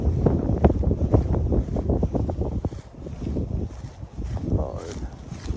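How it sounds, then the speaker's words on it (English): Strong gusts buffet the microphone in a backyard, a low rumbling roar that rises and falls over several seconds while someone talks over it. "it's super windy"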